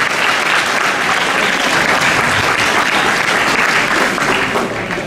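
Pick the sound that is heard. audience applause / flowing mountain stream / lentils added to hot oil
audience applause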